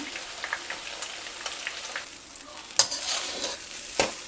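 Rice is fried and stirred with chilli chicken in a pan, making a soft continuous sizzle with scraping stirs and a few sharper clinks of the utensil against the pan.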